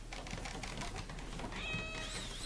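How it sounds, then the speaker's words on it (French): A cat attacking squirrels in the video game RimWorld produces faint meow-like game sound effects with light tapping clicks and a thin tonal whine toward the end, all quiet and at a low level. "on a le chat qui attaque les écureuils"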